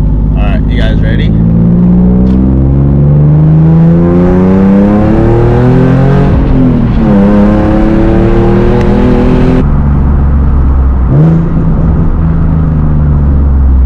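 A Nissan 370Z fitted with high-flow catalytic converters and test pipes drives along, its exhaust droning loudly with rising and falling revs as it accelerates and shifts, heard close from inside the car.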